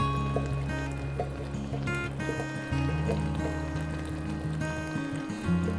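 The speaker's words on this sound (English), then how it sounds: "Now we're adding this wonderful San Marzano tomatoes with all the juice that is in the can." Canned San Marzano tomatoes and their juice pour into a pan in soft, uneven glugs and splashes over a few seconds, heard close, with a steady kitchen hum underneath.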